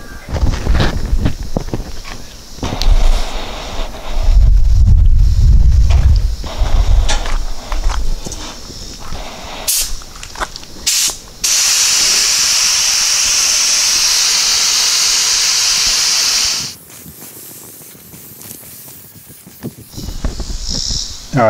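A spray gun lays base coat paint onto a truck bed, giving a steady hiss that comes in bursts, with one long continuous pass partway through, along with some handling noise and shuffling movement nearby.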